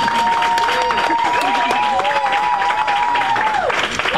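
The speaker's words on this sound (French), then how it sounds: "j'aimerais ça qu'on leur donne une bonne main d'applaudissement" Studio audience at a live radio show breaks into sustained applause and cheering, with a long wavering whistle riding over the clapping for about four seconds before it fades.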